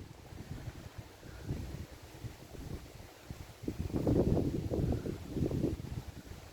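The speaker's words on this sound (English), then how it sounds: "It's not cold, it's just windy." Gusty wind buffets an outdoor caravan and camping site in Haltwhistle, a steady rushing roar that swells louder in the second half, with low rumbling gusts pressing against the microphone.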